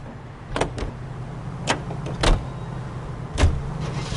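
A car in the video game L.A. Noire starting up and pulling away: a low steady engine rumble punctuated by several sharp mechanical clunks and clicks, close and fairly loud, no talk.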